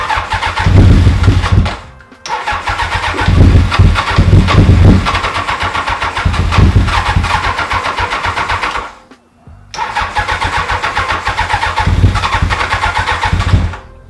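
A Roketa GK13 go-kart fitted with a Honda CBR1000F motorcycle engine cranks and catches, then revs hard in loud rough bursts, cutting out briefly twice before firing up again; close and dominant throughout.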